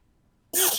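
A single loud, close sneeze bursts out after half a second of near silence, sharp and breathy, during a live tabletop role-playing game session.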